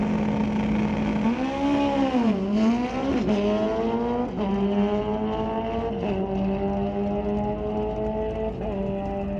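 A Kawasaki drag racing motorcycle makes a run down the strip at Mission Raceway Park. Its loud engine roar climbs in pitch, drops, and climbs again through several quick gear shifts for a sustained full-throttle pass.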